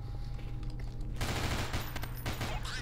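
Rapid machine gun fire in the video game Nightmare House 2: a quieter rattling stretch gives way to a loud, dense, continuous burst of automatic shots that carries on to the end.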